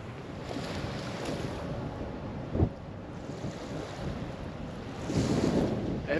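Waves wash steadily onto the shore at Waukegan Beach at sunset, a continuous rushing surf with heavy wind buffeting the microphone and a swell in loudness near the end.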